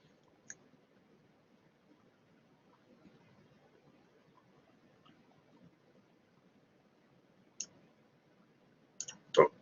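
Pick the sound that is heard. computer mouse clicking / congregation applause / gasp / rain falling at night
computer mouse clicking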